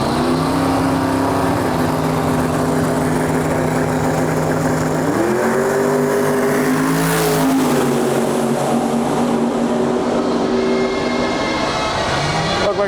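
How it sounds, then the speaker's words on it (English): A twin-turbo 427 Ford Mustang racing on a track, its loud engine droning close and steady, rising in pitch through the gears with a brief shift around the middle and sustained roar throughout. "I brought my Mustang out today. This is a 427 with twin turbos."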